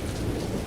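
Steady rain pours with a low rumble of thunder beneath it, a brief, dense and continuous wash of sound.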